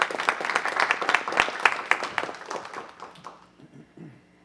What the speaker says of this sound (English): Everyone, please give him a round of applause as well.